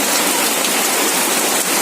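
Steady rain that has just begun falling, a dense, even hiss of drops pattering on surfaces, loud and continuous throughout with no voices.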